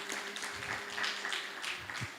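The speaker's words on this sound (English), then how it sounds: "Another round of applause for her." Applause from an audience at a women entrepreneurs' graduation ceremony in Mbarara, a moderate, steady patter of clapping with a voice faintly audible underneath.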